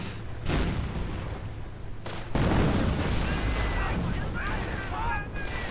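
Infantry rifle fire and grenadier fire from a World War II strategy game, dense crackling shots and booms in a continuous loud battle din, with a commentator talking over it.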